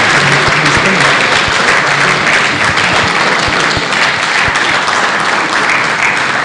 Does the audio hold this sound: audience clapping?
yes